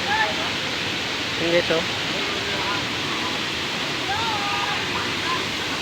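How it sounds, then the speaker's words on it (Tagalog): Inambakan Falls waterfall in Ginatilan, Cebu gives a steady, broad rushing roar. People talk over it throughout, with brief voices and shouts. "Ayan guys, Inambakan Falls"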